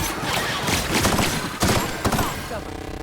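Rapid volleys of gunfire from The Outer Worlds, a sci-fi shooter game, crack out in a dense, continuous stream with a sharp heavier burst near the middle, while a voice is faintly mixed in.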